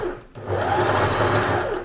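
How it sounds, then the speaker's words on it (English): A sewing machine zigzag-stitches lace onto a sweater being refashioned into a zip cardigan. After a brief pause it runs in a steady, close, fast mechanical whir for about a second and a half. "We're supposed to be stitching the lace on."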